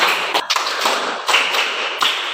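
A classroom group claps in rhythm during an ice breaker: several sharp, evenly spaced claps that are close and loud, with nothing else heard.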